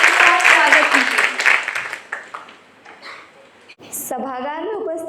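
An auditorium audience claps loudly, the applause thinning and fading out over a few seconds before a voice begins speaking.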